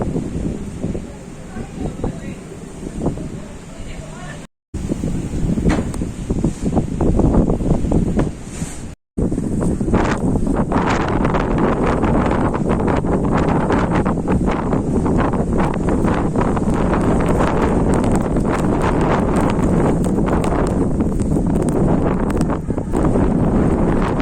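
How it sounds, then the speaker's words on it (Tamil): Strong wind roars through a heavy snowstorm in Toronto, buffeting the microphone in loud, continuous gusts near a car parking area, broken by two brief cutouts. "பயங்கர காற்றடிக்குது."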